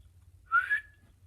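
A person imitates a small whistle with their mouth: one brief, clear, slightly rising whistled note, alone against quiet background hum.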